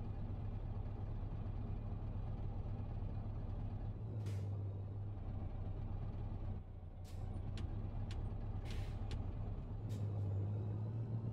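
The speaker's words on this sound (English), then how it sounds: "We'll try the engine brake and the retarder." A heavy Scania R500 truck engine in Euro Truck Simulator 2 rumbles steadily with a low drone, broken by sharp hissing bursts of air and brief dips as the engine brake and retarder engage.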